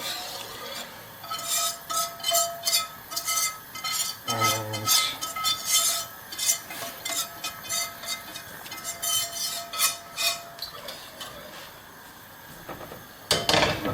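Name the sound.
stirring mushroom sauce in a pan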